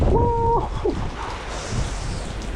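Wind drives rain outdoors in a steady, rushing wash of noise, loud and close. A single startled exclamation cuts in near the start.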